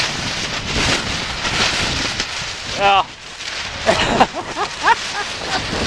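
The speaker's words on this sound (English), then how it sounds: "you saw a moment ago the tarp flapping wildly in the breeze" Wind roars across the microphone while a loose camping tarp flaps and snaps in bursts at a wilderness campsite; voices are briefly audible under the gusts.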